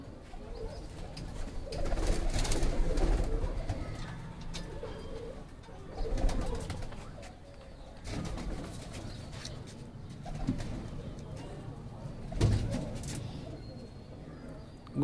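Golden pigeons coo softly in short, repeated bursts against a faint background with scattered low murmurs.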